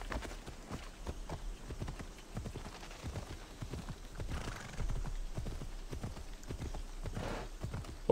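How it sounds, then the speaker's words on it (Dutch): Hooves clip-clop in a quick steady rhythm as a horse is ridden in the video game Assassin's Creed Odyssey, close and clear, with a brief whinny amid the galloping. "Ik wil ook mijn paard, want dan loop ik harder."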